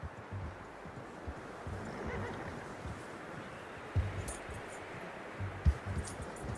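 Horse hooves clip-clop steadily while riding in the video game Red Dead Redemption 2, a moderate continuous patter with a couple of louder thumps, under faint game ambience.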